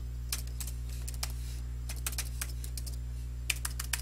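A command being typed on a computer keyboard, quick irregular clusters of close key clicks over a steady low electrical hum, no speech.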